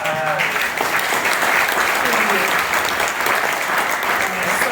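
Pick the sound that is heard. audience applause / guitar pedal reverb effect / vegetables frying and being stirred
audience applause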